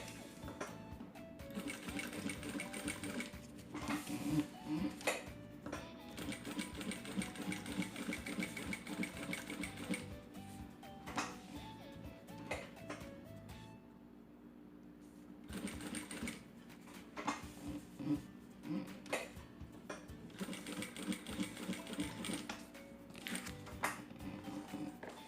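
A sewing machine stitches slowly around a curved seam on a diaper bag, running in repeated bursts of rapid mechanical whirring with short pauses between them, quiet and close.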